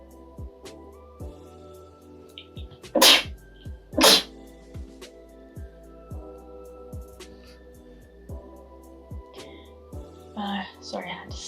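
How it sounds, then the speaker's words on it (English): Two loud sneezes in quick succession, close up, amid quiet room sounds and soft tapping. "Sorry, I had to sneeze."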